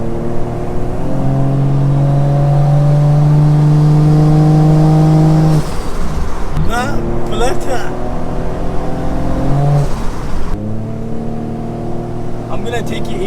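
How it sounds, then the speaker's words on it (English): A 400 bhp Toyota Soarer with a 1JZ engine and automatic gearbox accelerates from inside the cabin, its loud engine note climbing steadily then dropping at gear changes, with a voice talking over it. "just that sound of that 1Jz just gives me the thrills."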